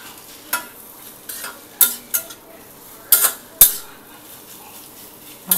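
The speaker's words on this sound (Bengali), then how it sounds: "এই যে মিক্স করা আর তার সাথে টাক টাক টাক টাক টাক করে আওয়াজ করা" A spatula clatters against an iron wok while ingredients are stirred over a high flame, giving several sharp, bright metallic taps in irregular bursts over a low, steady background.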